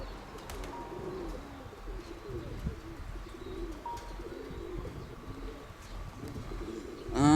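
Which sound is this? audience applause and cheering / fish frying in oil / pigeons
pigeons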